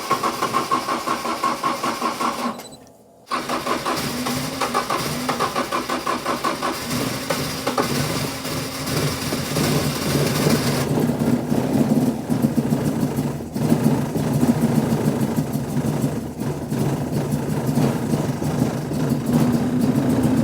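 A Ford Escort engine cranks and catches after a new ECU map is loaded, then settles into a steady, loud, throbbing idle with a slightly uneven pulse that continues for the rest of the clip.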